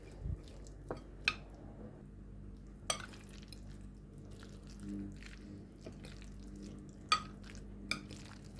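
Coleslaw ingredients tossed and stirred in a bowl with a little salt, soft wet mixing sounds broken by a few sharp clinks of utensil against the bowl, fairly quiet and close.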